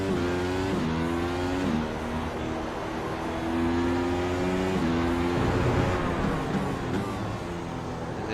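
McLaren MP4-30 Formula 1 car in iRacing at Interlagos, engine screaming loud and close as it accelerates hard through several upshifts, pitch climbing and dropping at each gear change.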